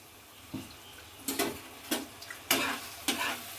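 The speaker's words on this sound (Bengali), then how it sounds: "একটু কষিয়ে নেব যাতে আদা রসুনের কাঁচা গন্ধটা কেটে যায়" Spices with ginger-garlic paste being sautéed in a pot for dhaba-style handi chicken: a soft background sizzle broken by five or six sharp scrapes and stirs, close by, with no voices.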